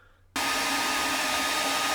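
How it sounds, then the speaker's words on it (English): Hair dryer switches on abruptly after a short quiet moment, then blows with a loud, steady, close whooshing hiss. "I'll quickly do the hairdryer thing"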